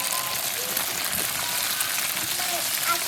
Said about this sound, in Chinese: 下入葱姜干辣椒、豆腐丁儿，来点生抽、老抽、盐、花椒面、姜粉，全部炒香以后舀出来。